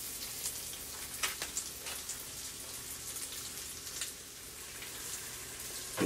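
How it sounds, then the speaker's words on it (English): Sausage seasoned with thyme cooks in a pan, giving a quiet, steady sizzle with scattered crackles and soft pops, alone and without talk. "So we're going to allow the sausage to cook."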